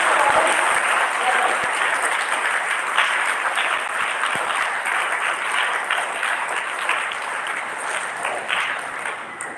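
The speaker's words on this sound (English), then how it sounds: "Let us give a clap to the" An audience at a school academy's inaugural function breaks into applause, loud, dense clapping from many hands that starts strong and slowly tapers over nearly ten seconds.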